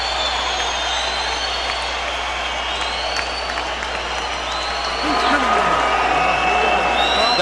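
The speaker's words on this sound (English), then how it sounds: "The crowd is ecstatic" Boxing arena crowd after a Roy Jones Jr. versus Antonio Tarver fight, cheering and applauding in a loud, continuous wash that swells further toward the end, with voices mixed in.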